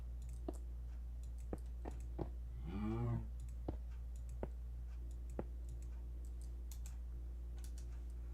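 A cow lets out a single drawn-out moo in the Minecraft video game, faint and about a second long, among sparse clicks and key taps.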